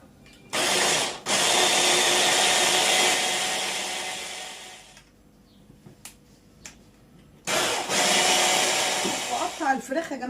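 A food processor minces onion and vegetables for chicken kofta, running in loud whirring bursts that start and stop, with brief quiet gaps and faint handling noises between runs.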